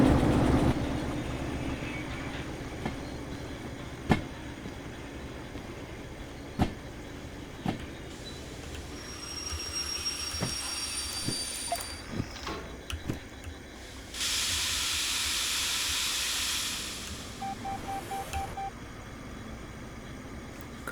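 A DE2 diesel locomotive in the train-driving game Derail Valley rumbles steadily under constant hiss, punctuated by periodic sharp clanks and a louder stretch of air-like hissing near the end, with no talking.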